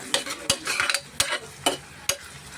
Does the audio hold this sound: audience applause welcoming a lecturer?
no